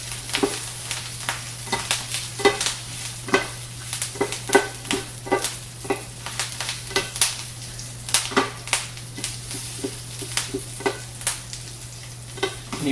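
Kale being stirred in sizzling oil in a frying pan, with a steady hiss and repeated scraping, clattering strokes of the spoon, close and alone.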